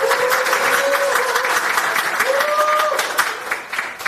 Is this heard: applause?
yes